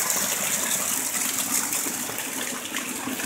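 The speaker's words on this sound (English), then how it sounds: "Look at this rainstorm." Rainwater from a heavy storm gushes and leaks in at a house's front door, a loud steady rush of pouring water with no talking.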